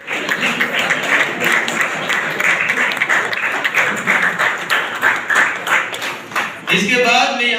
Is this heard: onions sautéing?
no